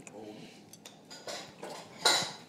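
Bowls and chopsticks clink and clatter at a shared meal as several sharp, bright knocks land at irregular moments, growing louder toward the end, with quiet talk in the background.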